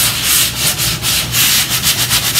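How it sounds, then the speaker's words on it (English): Sandpaper rubs back and forth over a painted wooden folk art checkerboard, distressing the top coat of paint; steady, close, rhythmic scraping strokes with no talk. "see how that top layer of paint is sanding away to reveal like the white underneath and black"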